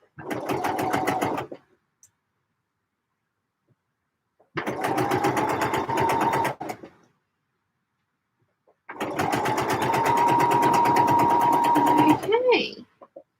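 A sewing machine stitching trousers runs in three bursts of rapid, even stitching, each around two to four seconds long with silent pauses between them. The last run ends with a short squeak.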